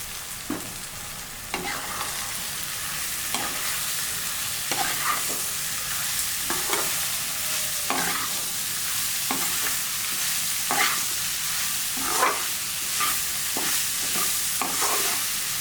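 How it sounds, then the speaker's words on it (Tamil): Boiled cauliflower is stirred into a tomato masala in a pan. A spatula scrapes in steady, repeated strokes over a continuous sizzle, close and alone. "இதை நான் நல்லா கலந்து விட்டுக்கிறேன்"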